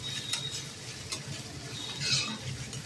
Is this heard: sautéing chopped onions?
yes